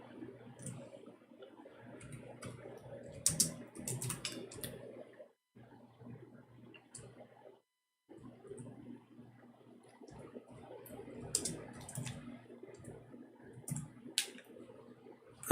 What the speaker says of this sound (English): I'm just trying to learn how to use this keyboard because it has different keys location.